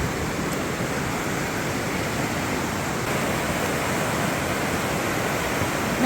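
Fast-flowing creek water rushing under a storm-damaged trail bridge, a steady broadband roar that stays loud and constant throughout with no voices.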